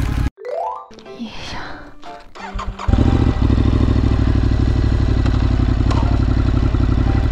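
Clattering and a brief tone give way to a loud motorcycle engine that rumbles and revs continuously, close to the microphone, on a ride in Hokkaido, Japan.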